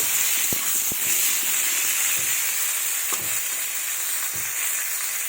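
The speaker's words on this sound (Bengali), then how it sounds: "কিছুক্ষণ এটাকে ভেজে নেব। আর একটু তেল দেবো, দিয়ে মতো ভেজে নেব।" Potatoes and eggplant fry in oil with a loud, constant hiss and sizzle, punctuated by several soft spatula knocks against the pan, close and without talk.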